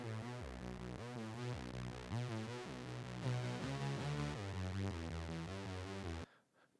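Heavy distorted guitar riffing from a cover mix, an EQ'd copy of the guitar track, plays as dense palm-muted chugs and sustained chords, loud and continuous before cutting off abruptly near the end.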